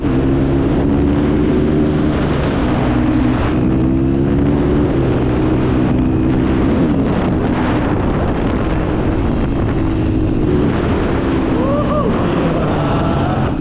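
A Honda CRF motorcycle ridden at an easy pace gives a steady engine drone whose pitch rises and falls with throttle and gear changes, under constant loud wind rush across the microphone.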